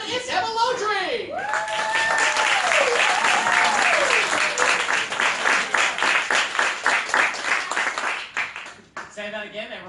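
Audience applause at a Christmas stage show swells into sustained dense clapping for several seconds, loud and close, with a voice calling out over it at the start before the clapping thins and fades near the end.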